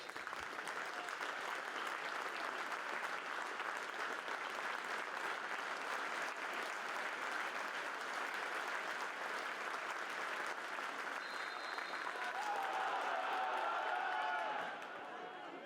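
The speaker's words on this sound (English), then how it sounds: "So the team's standing by now for the minute's applause as part of this" A stadium crowd at a Tranmere Rovers versus Bromley memorial fixture applauds steadily through a minute's applause, a dense, sustained wash of distant clapping that swells slightly near the end before easing off.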